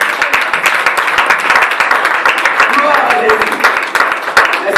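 A church congregation applauds and cheers during a Sunday service. Steady, dense clapping mixes with voices for the whole stretch, loud and close.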